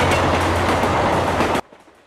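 A train runs along a railway line with a loud, steady rumble and rhythmic clatter that cuts off abruptly near the end, leaving quiet.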